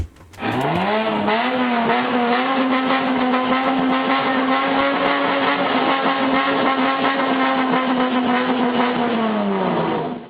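Modified Bosozoku car engine revving in rhythmic calls, loud and close, a sustained throttle blip that rises sharply then holds a wavering pitched drone for several seconds before cutting off.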